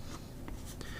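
Fine-nib fountain pen (Pen BBS 355) filled with Van Dieman's Aurora Australis ink scratching across paper in short, soft strokes, close and faint with a steady low background hum.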